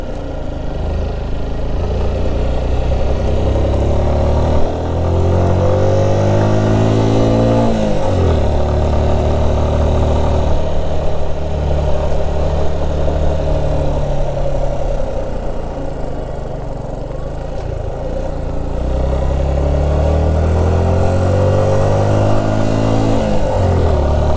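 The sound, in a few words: motorcycle engine straining uphill in first gear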